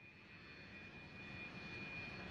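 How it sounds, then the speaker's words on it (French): An airplane landing at Riyadh airport, a steady roaring aircraft engine with a thin high whine, fairly distant and slowly swelling, with no voices. "Alors que son avion se pose à l'aéroport de Riyad, le président égyptien Abdel Fattah el-Sisi"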